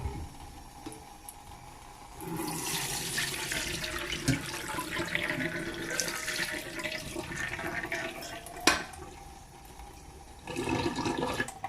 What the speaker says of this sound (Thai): ต้องล้างหลายๆน้ำนะคะ ให้กลิ่นมันออกไปนะ